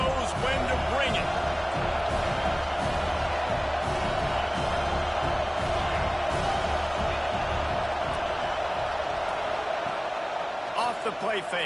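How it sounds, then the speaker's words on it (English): A stadium crowd at a football game roars in a steady, loud wall of cheering that fills the whole stretch, with an announcer's voice faintly mixed under the noise. "This crowd knows when to bring it."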